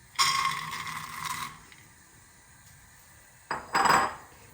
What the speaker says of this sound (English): I am going to cook the peanuts in that oil